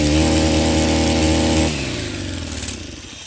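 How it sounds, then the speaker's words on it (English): A Stihl pole saw's small two-stroke engine runs loud and close with a steady buzzing drone, then drops to a lower, quieter idle partway through. "I'm going to start it and show you that the chain is not spinning."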